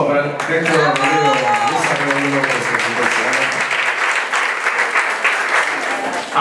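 Loud applause from an audience at a facility inauguration ceremony, steady and close throughout, with a voice speaking over the clapping at the start.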